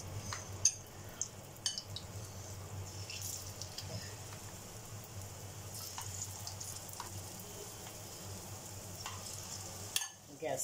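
Raw banana pieces frying in hot oil in a home kitchen pan over a low to medium gas flame, a steady close sizzle throughout with occasional light clinks and stirring sounds, no talking.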